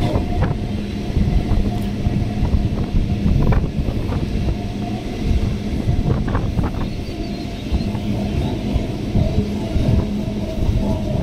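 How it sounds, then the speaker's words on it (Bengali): A train pulls into Nungi station platform with a steady low rumble and rattling wheels, heard from a distance along with wind buffeting the microphone and a few metallic clanks. "নুঙ্গির প্ল্যাটফর্মে ট্রেন চলে এসেছে"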